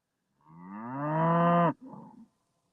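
Cattle on a farm moo once in a long, loud, rising call lasting over a second, followed by a shorter, softer grunt right after, with quiet around it.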